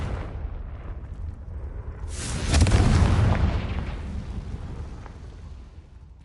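Confringo blasting spell going off in a game, a single deep explosive boom that swells and rumbles for a couple of seconds before fading back into low background noise.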